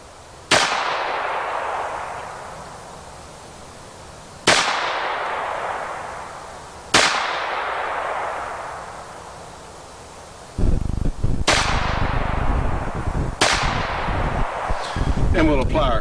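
Five sharp gunshots from a Smith & Wesson 2206 pistol fired at a target about 15 yards away, spaced a few seconds apart, each loud crack trailing off, with louder background noise near the end.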